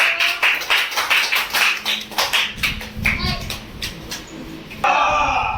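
Children clap their hands for Kishorbhai at a special school for children with intellectual disabilities, a run of quick, uneven claps close by, mixed with children's voices and chatter throughout.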